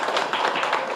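A brief, dense burst of audience applause for a team at a hotel-group quiz contest, steady and fairly loud throughout the moment.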